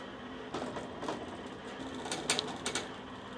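Embroidery machine tracing the design outline on a shirt, a steady mechanical whir with soft repeated clicks and ticks from the moving frame, moderately quiet and continuous.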